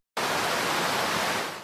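A waterfall roars as a steady, loud wash of broadband noise that starts abruptly and holds for under two seconds, with no voices.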